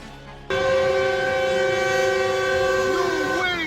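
A loud, sustained train horn blares steadily with a harmonic tone as a train approaches a semi-truck stuck on the tracks at high speed, holding for several seconds before wavering slightly near the end.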